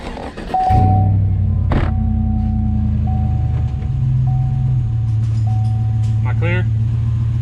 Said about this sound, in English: Oh yeah, it drives back on its own power without me having to give it gas.